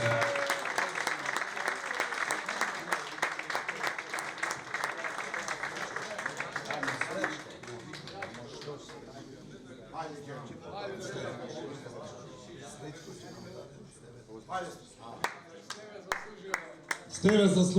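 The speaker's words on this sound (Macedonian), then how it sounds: "Еве аплауз" An audience at a Teteks Tetovo generations reunion applauds Steve Zakovski with dense, sustained clapping that fades after about seven seconds into murmuring crowd sounds and scattered claps, with voices speaking over it.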